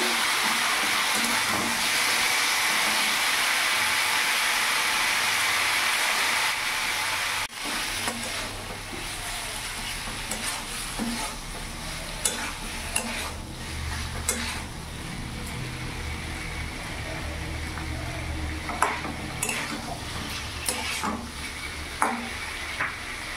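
Pumpkin chhechki fries in a pan with a soft, continuous sizzle, broken by scraping and clinking as a spatula stirs it, heard close with no talk.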